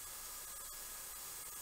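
A Fengda FE-180K airbrush sprays acrylic paint in a steady, fairly quiet hiss of air and atomised paint that runs unbroken throughout.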